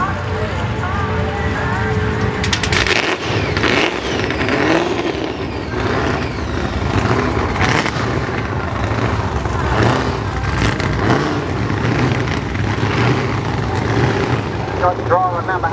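A drag race car does a power skid burnout, its engine roaring loud and sustained with repeated revving surges and tyre noise, while a commentator talks over it.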